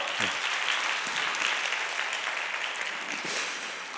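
A church congregation at a Korean youth worship service gives steady, sustained applause of many hands after a special choir performance, a dense even clatter that holds throughout.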